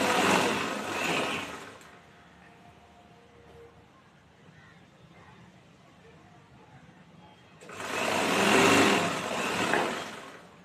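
A sewing machine stitches the side opening of a chudithar in two loud, fast-running bursts at the start and end, with a quieter pause between them.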